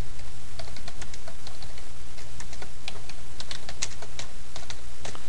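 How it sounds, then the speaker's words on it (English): Someone types on a computer keyboard, close and clear: brisk irregular runs of crisp key clicks and taps over a low steady background hum, with no voice. "So the first thing I'm going to do is type in an application name"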